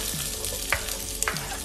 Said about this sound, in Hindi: once you can listen to the cracking sound of these all seeds